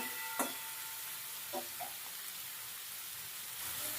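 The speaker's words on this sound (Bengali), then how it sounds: "আলু বেগুনটাকে আগে একটু নাড়াচাড়া করে নিচ্ছি" Potato and eggplant frying in a pan, a faint continuous sizzling hiss with a few brief taps of a spatula stirring, no speech.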